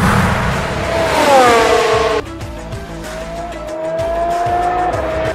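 Formula 1 car braking hard from about 320 km/h before corner 3 at Silverstone during the 2020 British Grand Prix, heard as a loud, close engine note that drops steadily in pitch, then a lower, steadier engine drone with faint tire squeal.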